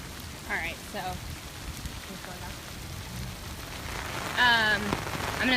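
Rain falls steadily over flooded Mid-City New Orleans, a soft constant patter beneath brief tonal chirps and voices nearby, growing a bit louder toward the end.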